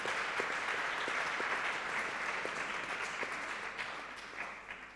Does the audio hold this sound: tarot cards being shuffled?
no